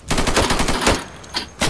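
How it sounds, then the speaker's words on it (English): Rapid automatic gunfire in the shooter game Insurgency, a loud, dense burst of shots lasting about a second, then a brief lull and one more shot at the end. "Gua nembak Ivan"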